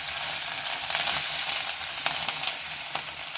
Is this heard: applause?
no